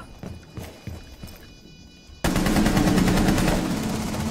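Rapid automatic gunfire from the tactical shooter Rainbow Six, sparse sharp shots at first, then a sudden dense, loud burst of sustained firing that fills the rest of the moment.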